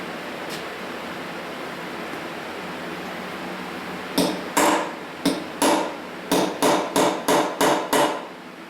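A hammer strikes a chisel on a forklift engine during teardown, about ten sharp metallic taps in a quickening series after several seconds of quiet hiss, close and loud with no voices.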